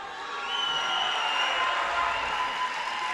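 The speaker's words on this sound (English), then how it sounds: "You can hear the Dutch crowd." A Dutch crowd cheers at a veterans' world judo championship, a steady, fairly loud roar of many voices that swells slightly and holds throughout.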